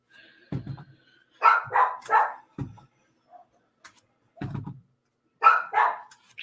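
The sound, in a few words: noisy dogs barking nearby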